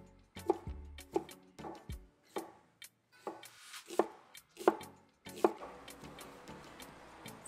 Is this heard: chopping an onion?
yes